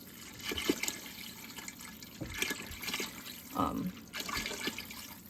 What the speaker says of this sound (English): I'm just going ahead and adding the liquid in here, just water.